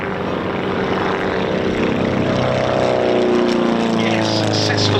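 Avro Lancaster Just Jane and a Mosquito, propeller aircraft taxiing at the East Kirkby airshow, give a loud, steady multi-engine drone that fills the whole stretch and rises slightly in pitch toward the end.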